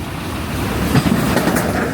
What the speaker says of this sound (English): that was awesome seeing Scots Guardsman passing through Rowley Regis station